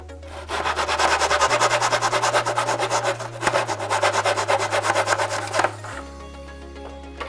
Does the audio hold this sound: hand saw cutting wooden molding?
yes